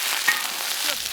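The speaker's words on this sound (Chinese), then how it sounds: "以后贝壳下入炒一下啊，先给它们炒一下，再等于炸一下香一点" River mussel shells are stir-fried with ginger in a hot wok, giving a short, close burst of bright sizzling and scraping with no voices.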